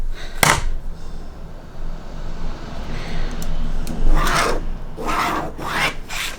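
A pen scratches and scribbles across paper while someone tries to get the ink flowing, giving a sharp rasp near the start and then several short, close scratching bursts toward the end, with no talk.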